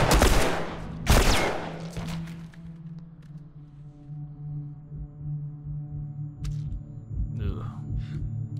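Two sharp, loud gunshots in The Last of Us game, the second following about a second after the first, then ringing decay over a steady low droning background with faint scattered sounds.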